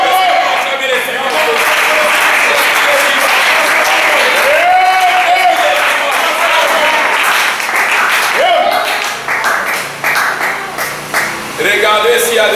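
A church congregation at a French-language service applauds the Lord in loud, sustained clapping, with voices and cheers mixed in throughout. The applause thins into scattered claps near the end.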